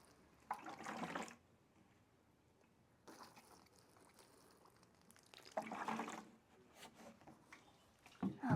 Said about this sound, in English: Other one, and then I'm gonna water these in